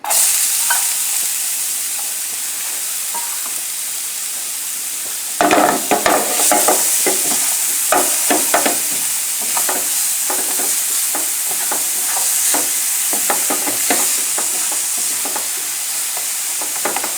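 Onions sautéing in a pan over a low flame for a salmon dish: a constant soft sizzling hiss, joined partway through by repeated scraping stirs of a utensil against the pan.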